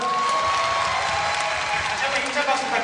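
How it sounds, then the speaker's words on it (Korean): University students at Dankook University applaud after a performance, a full round of steady clapping and crowd noise with a voice carrying over it. "큰 박수 한번 주세요."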